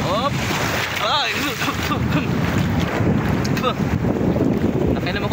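Strong sea waves surge and wash at Bolasi beach in San Fabian, Pangasinan, with loud, continuous churning water and gusty wind buffeting the microphone close up, while a voice calls out briefly near the start.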